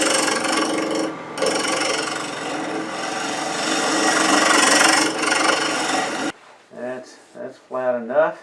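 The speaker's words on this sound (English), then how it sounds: "1/2 inch bowl gouge to take that passing cut." A 1/2 inch bowl gouge hollowing a cherry burl kuksa, a steady loud rasping scrape of wood turning for several seconds, then stopping as a person speaks.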